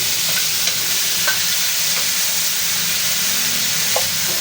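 Garlic, onion and tomato frying in oil in a pan for Bicol Express, a loud, dense, continuous sizzle with faint scattered pops of spattering oil, close by and without talk.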